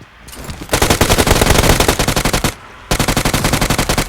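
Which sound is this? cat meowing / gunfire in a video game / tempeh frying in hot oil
gunfire in a video game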